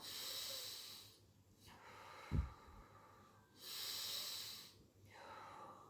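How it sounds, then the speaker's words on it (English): Slow, deep breathing during a rehabilitation exercise after Covid-19: close, airy inhales and exhales in a steady rhythm, with a short soft thump midway. "These are the base of deep breathing exercises."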